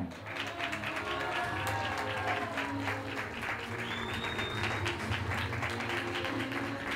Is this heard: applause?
yes